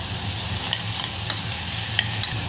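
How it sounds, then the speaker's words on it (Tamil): Chopped tomatoes and onions sauté in a pan for a kurma, giving a continuous soft sizzle with a few faint stirring clicks and no talk. "தக்காளி போட்டேன், வதங்கட்டும்."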